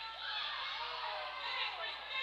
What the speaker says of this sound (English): We're on the Seminole side, so all we hear is the Seminole crowd